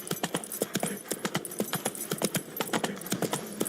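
Hooves of Roach, the horse in The Witcher 3 video game, galloping in a quick, steady clip-clop rhythm, close and clear with no voices.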